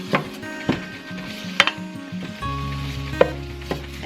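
Bacon frying in a pot for a cabbage and potato dinner, giving a steady sizzle with a few sharp knocks and clatters of utensils against the pot.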